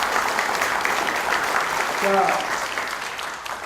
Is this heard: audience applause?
yes